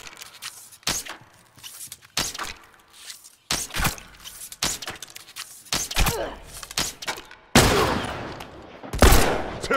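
Rifle fire in The Last of Us multiplayer on PS4: repeated sharp close gunshots in irregular bursts, with a louder sustained volley near the end, over quieter footsteps and movement.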